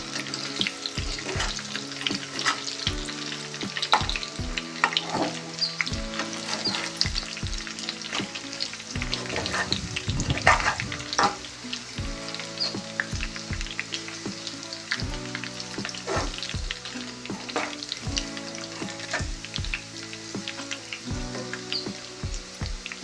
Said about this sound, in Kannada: ಚೆನ್ನಾಗಿ ಫ್ರೈ ಮಾಡ್ಕೊಳ್ಬೇಕು.